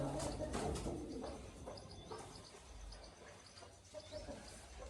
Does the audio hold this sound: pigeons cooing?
yes